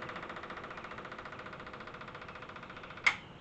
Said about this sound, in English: So, we're going to turn the fuel pump on,